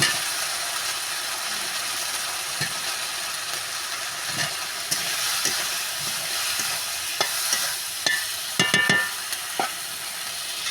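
Brinjal, beans and mixed vegetables fry in oil with ginger-cumin paste, a continuous close sizzle broken by scraping stirs and clattering spatula knocks against the pan, no voices.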